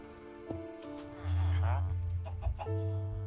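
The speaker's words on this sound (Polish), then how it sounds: "Kura, weź stąd zdupcaj." A chicken in the Minecraft video game clucks in short bursts, close and fairly clear, over steady game background tones, while someone talks over it.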